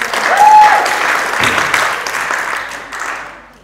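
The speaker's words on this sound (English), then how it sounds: "Come on, give her a clap for that." An audience at a social care conference in Manchester claps for someone speaker, a loud, dense burst of applause that swells early and slowly tapers off, with no talking over it.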